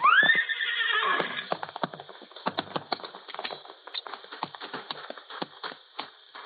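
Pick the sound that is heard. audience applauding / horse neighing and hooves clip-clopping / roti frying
horse neighing and hooves clip-clopping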